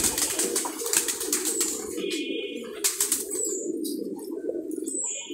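Pigeons coo in soft repeated low calls through a continuous murmur, with brief bursts of higher chirps and a flutter or two of wings mixed in, close and steady with no talk.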